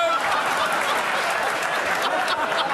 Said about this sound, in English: I want to stop the clapping.